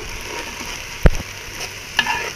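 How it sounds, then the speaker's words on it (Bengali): Pulao rice frying with spices in a pan, a soft close sizzle with one sharp clack of a spatula stirring midway and a lighter scrape toward the end. "সব মশলা দিয়ে পোলাওটা ভাজা শুরু করছি।"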